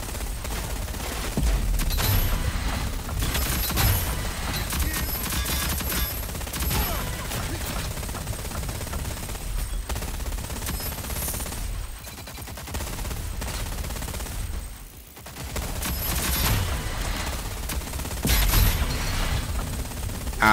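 A minigun in the video game Rogue Company roars in long, continuous high-rate bursts, loud and sustained, with one short lull before it resumes.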